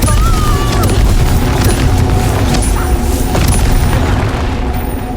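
Explosive spells burst in Hogwarts Legacy, loud dense booms and crashing blasts layered continuously with battle noise, close and overwhelming throughout.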